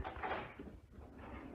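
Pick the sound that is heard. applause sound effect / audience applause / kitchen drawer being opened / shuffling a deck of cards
kitchen drawer being opened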